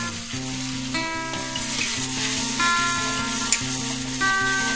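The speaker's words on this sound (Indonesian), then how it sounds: "Lanjut untuk masaknya aku tumis bumbunya dulu." Spice paste sautéing in a home-kitchen pan sizzles and crackles steadily, with stirring and a brief spatter, close and fairly loud and with no talking.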